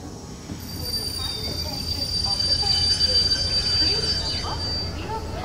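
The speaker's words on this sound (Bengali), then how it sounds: "খানিক পর গাড়ি স্টেশনে ঢুকল" A train rolls into a station as an audio drama effect, with a steady rumble of wheels on rails, a long high squeal of braking wheels, and faint crowd murmur behind.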